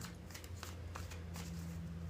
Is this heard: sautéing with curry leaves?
no